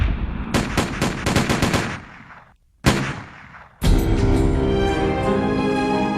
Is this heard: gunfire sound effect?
yes